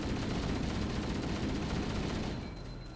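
Continuous loud gunfire in Halo CE, a dense sustained barrage of shots close up with a shotgun in hand, easing off slightly at the end; no talking.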